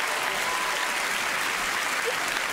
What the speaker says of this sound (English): big round of applause for Stacey